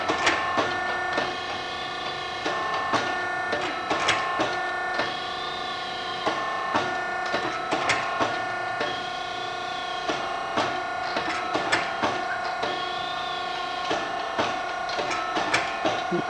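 Model 9000 tube forming machine working a very thin tube, a steady mechanical hum with rhythmic clicks and knocks repeating about every two seconds, close and continuous with no voices.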